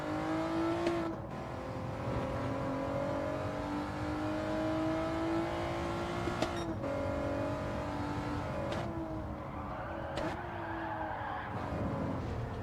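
Race car engine in a GT3 racing video game, revving hard and continuously with shifting pitch, bursts of tire squeal and skidding, loud and steady throughout with no talk.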